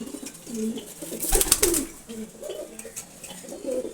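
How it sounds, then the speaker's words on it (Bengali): Male racing pigeons coo in a loft, low soft rolling calls repeating through the moment with a brief flutter of wings in the middle, close and fairly quiet, no talking. "আজকে কবুতরগুলি একটু দেখাবো আপনাদের দেখেন রেসার কবুতর"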